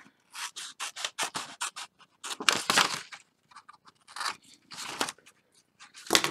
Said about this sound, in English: we're going to cut that off.